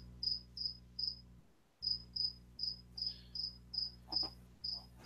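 A cricket chirps in the background in short, regular trills, about a dozen evenly spaced pulses with one brief pause, faint over a quiet low hum.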